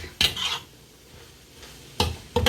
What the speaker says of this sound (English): I'm going to add in my ginger and my garlic. I'm going to let that cook.